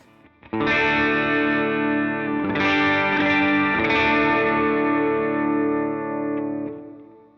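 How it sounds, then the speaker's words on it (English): An electric guitar amp breaking up slightly on its own, with no pedal, as a few chords are struck and left to ring with light grit. "You can hear without any overdrives on that the amp is breaking up."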